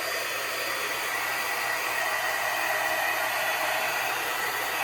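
A handheld heat gun blows directly onto a craft card, producing a steady, loud, even rush of air that holds constant the whole time with no talking.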